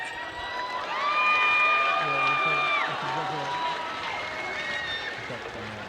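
Crowd applause and cheering for the 2019 champion at a sports semi-final, Northcote versus Glenora, a steady wash of clapping under an announcer's voice over the loudspeaker.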